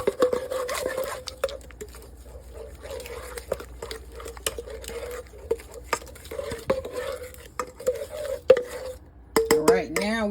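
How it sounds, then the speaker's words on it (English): A utensil stirs a thick icing mixture in a bowl with a steady, close scraping rhythm, ending in a few louder clinks and taps against the bowl. "And then mix this up."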